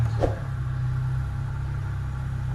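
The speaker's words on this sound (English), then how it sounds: "You need to start engine" A steady low car engine hum idles close by, constant and droning, with a faint brief click near the start, as a car vacuum cleaner and inflator is plugged in.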